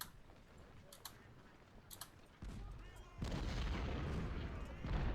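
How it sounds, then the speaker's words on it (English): Artillery fire in the Civil War strategy game Legendary Ironman, Union side, at the Philippi battle: distant booms and a steady rumble of volleys swell in intensity over a noisy battlefield backdrop. "Zook's taking the artillery fire."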